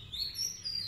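Bright, high bird chirps and tweets ring out outdoors at a farmhouse in a quiet rural setting, several short calls in quick succession at moderate distance.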